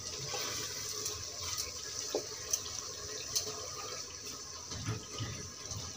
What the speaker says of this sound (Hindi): ये देखिए थोड़ा सा पानी डाला हमने, और इसको अच्छे से हम भूनेंगे।